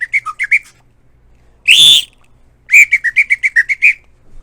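Small bird-call whistles used as percussion sound effects imitating two birds conversing: a quick run of bright chirps, a longer warbling trill, then a rapid answering series of sharp tweets, loud and close.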